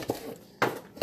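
Brussels sprouts dropped onto a pan, giving three quick soft knocks and clinks spaced apart, close and fairly quiet.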